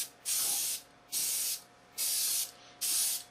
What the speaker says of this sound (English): all we're going to do is just spray absolutely everywhere with it